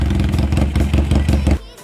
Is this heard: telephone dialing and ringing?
no